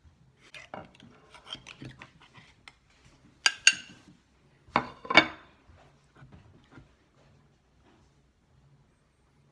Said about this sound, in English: I'll take the lid off